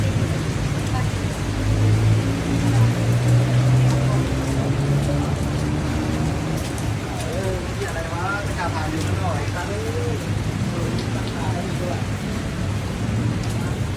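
Rain falling in Bangkok outside a Don Don Donki store, a steady wash of drops on surfaces with low rumbling traffic and faint voices mixed into the background throughout.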